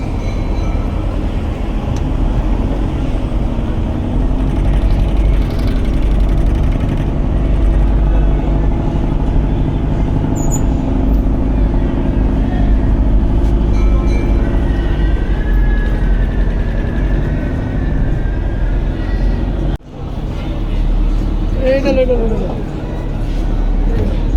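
A large passenger river launch on the Sandhya River near Barishal pulls into the ghat. Its engines give a loud, continuous rumble throughout, with someone talking over the steady drone.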